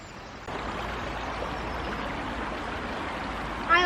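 A stream with weirs and old bridges near Fonmon Castle in South Wales flows in a steady, broadband rush that swells slightly after the first half second and continues evenly, with no talk.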